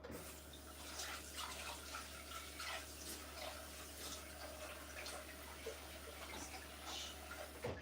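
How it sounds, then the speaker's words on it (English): Water draining from a pot of chuchu soup, a quiet, continuous stream of pouring and splashing liquid with small gurgles and drips, no speech. "And now I'm going to drain it."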